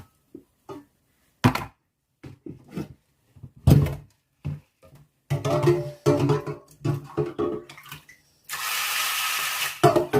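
Water splashes and pours into a container to soak bean seeds for sprouting, arriving in short bursts with thunks and handling noises, then a steady, loud pouring stream near the end.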